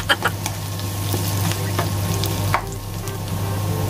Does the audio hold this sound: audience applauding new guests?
no